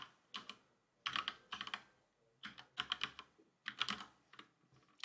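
Someone types on a computer keyboard close by, in quick clustered bursts of key clicks separated by brief pauses.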